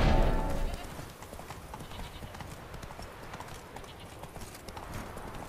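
Horse galloping in The Witcher 3 video game, rapid rhythmic hoofbeats clip-clopping steadily after a louder opening burst, with faint voice traces in the background.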